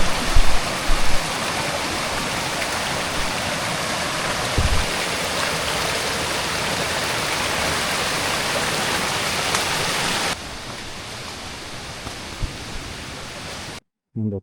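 A Vattavada waterfall and stream roar as a steady, loud rush of falling water close by, continuous throughout, then drop to a quieter flow near the end.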